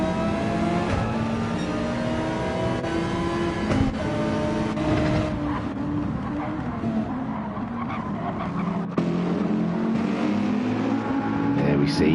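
Race cars in a GTMC7 video game race roar around the track on worn tyres, engines whining and shifting with squealing tyres, while a commentator talks over the action.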